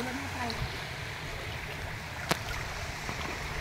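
A strong river current flows steadily in the open, a broad continuous rush heard close by, with faint voices underneath and one brief knock.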